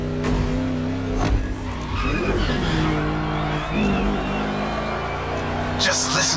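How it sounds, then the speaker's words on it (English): A V8 car engine in a racing video game growls and revs through a lap, with tire squeal and skidding under a player's ongoing commentary. "listen to that V8 like a chunky, down-tuned guitar riff"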